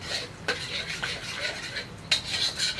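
Eggs being scrambled in a pan with pepper powder, a utensil scraping and tapping against the pan in irregular strokes, close and fairly soft, with a few sharper knocks.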